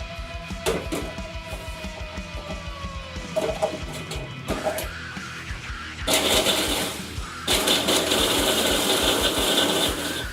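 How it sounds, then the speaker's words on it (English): A food processor starts up and blends broken-up pieces, with loud mechanical whirring that comes in bursts and steady grinding noise filling the last few seconds, close to the microphone. "Put them in a food processor and blend them up a little bit like this."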